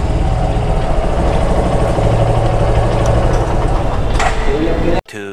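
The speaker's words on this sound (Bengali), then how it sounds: "এই বাইকের সাউন্ডের কি অবস্থা?" A motorcycle engine idles in a parking area during a bike tour, a steady low rumble that continues without a break and then cuts off abruptly near the end.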